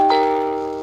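A single chime from a Hyundai car rings out close and clear, one bright bell-like tone that fades slowly over under a second.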